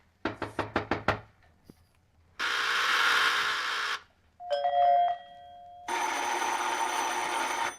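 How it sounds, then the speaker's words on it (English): A doorbell rings several times in long buzzing bursts, preceded by a quick series of sharp knocks, with brief silences between the rings. "Annoying, isn't it, the repeated ringing of your doorbell?"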